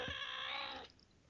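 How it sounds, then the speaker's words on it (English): A pet cat gives a single drawn-out meow while being petted. The meow is close and clear and fades after about a second into quiet room noise. "That's my cat."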